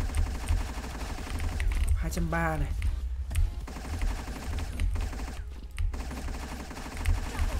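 Crisona gun, a DZ-series weapon in the shooter game Truy Kich, firing rapid bursts of shots over busy in-game noise, with someone commentating over the action.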